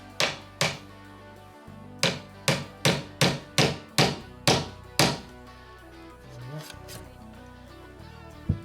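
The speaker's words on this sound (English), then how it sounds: "you punch the nail the rest of the way in, so it's just under the timber" A hammer and nail punch drive a nail into timber door architrave: about a dozen sharp, close knocks in a fast, even series, then a quieter gap with a final tap near the end.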